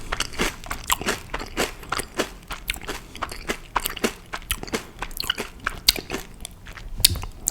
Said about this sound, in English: I can already tell these are going to be very, very crunchy.